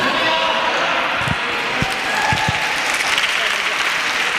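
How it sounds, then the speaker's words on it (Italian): Spectators at a Sardinian powerlifting single-lift championship in Iglesias applauding a lifter, steady clapping throughout with a few thumps and an announcer speaking over it. "Con non poca sofferenza, ma merita l'applauso Sara Carta."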